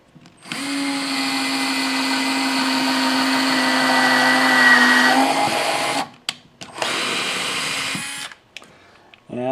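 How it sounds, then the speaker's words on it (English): A Skil 7.2V lithium-ion cordless mini drill whines steadily for about six seconds while drilling starter holes, then runs in two shorter bursts with brief pauses between, close and fairly loud. "It can drill starter holes pretty good."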